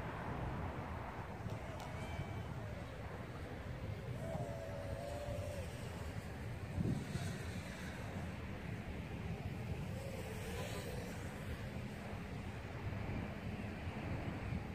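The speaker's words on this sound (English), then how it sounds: "It's very windy out here." Steady, loud wind buffets an outdoor microphone during a 5-inch FPV drone test flight, a constant broadband rush with gusty swells that persists throughout without pause.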